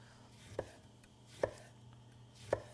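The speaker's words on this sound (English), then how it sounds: "I'm going to cut 2 oranges, thin slices, peel and everything." A knife cuts through whole oranges, peel and all, on a cutting board. Three crisp, evenly spaced chops land about a second apart over a quiet background.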